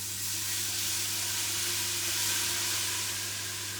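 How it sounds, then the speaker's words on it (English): Steady, continuous sizzling of canned chopped tomatoes hitting a hot stock pan, a dense hiss with low kitchen hum beneath, no voices. "So you can hear all that sizzling"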